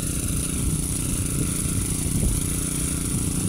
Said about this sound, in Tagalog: Ito guys yung motor nila.